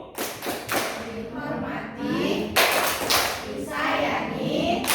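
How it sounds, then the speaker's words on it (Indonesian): Children clap together for their teacher in a classroom, a burst of bright claps and thumps that stops and starts again, with voices of kids and adults mixed in. "Tepuk guru."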